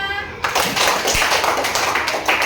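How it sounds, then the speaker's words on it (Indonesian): Applause from a classroom of students in a lesson, a burst of clapping starting after a brief tonal sound and continuing evenly, close and fairly loud. "tepuk tangan untuk kita semua"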